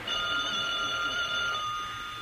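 An old 1940s telephone bell rings steadily and continuously indoors, a bright sustained metallic trill with no talk over it.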